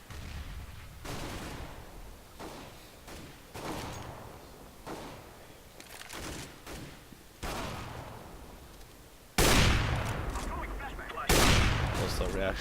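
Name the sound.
gunfire from a pre-fire in a video game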